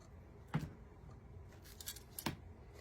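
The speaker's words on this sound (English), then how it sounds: "Okay, I'm gonna cut my yarn." Scissors snip through yarn while making a Dollar Tree flower door hanger, two crisp close cuts about two seconds apart with faint handling noise between, no talk.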